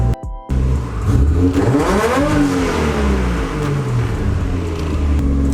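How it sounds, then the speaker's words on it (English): Car engine revved hard from idle, its pitch sweeping sharply upward to a high, strained whine and holding there at full revs, close and loud with no speech. "I'll rev it up a little bit"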